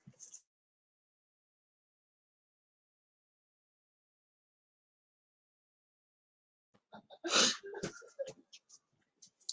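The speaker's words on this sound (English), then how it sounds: "it brought on a sneeze" A single sneeze comes after a long stretch of silence, with quick breaths leading into the sharp burst and a few small sniffs after it, close but fairly quiet.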